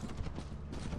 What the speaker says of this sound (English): I gotta shoot you